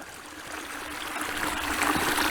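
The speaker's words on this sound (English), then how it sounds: "That is some mountain spring water coming out of there" Mountain spring water trickling out of the ground, a soft continuous stream close by that swells slightly louder toward the end, with no voices.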